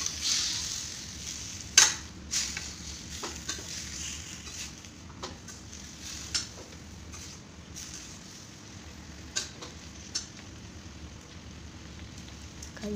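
Tomatoes and green chilies sizzle softly in a pan for tomato pachadi, with scattered clinks and scrapes from stirring over a faint steady frying hiss, close by and with no talking.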